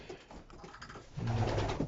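Racing pigeons in a loft coo softly through the first second, then a louder, close, sustained burst of cooing fills the end of the short stretch.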